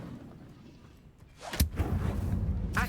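The Incendio fire spell is cast in the Hogwarts Legacy video game, a sudden loud burst followed by a roaring, crackling rush of flame that holds strong to the end.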